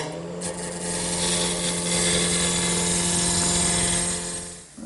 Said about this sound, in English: First thing I want to do is round over this blank with my gouge.